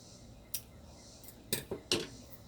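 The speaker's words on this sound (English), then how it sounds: "So I'm cut that part off, cut the roots off" A knife snips the top and roots off a freshly harvested garden vegetable in several quick, faint, crisp cuts, one single and then a cluster of three, against a quiet outdoor background.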